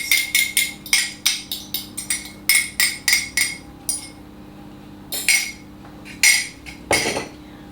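Cake batter made with milk and eggs is beaten in a bowl for cut and come again cake, giving rapid repeated clinks and taps of a utensil against the bowl in bursts, close and fairly loud, pausing briefly between runs.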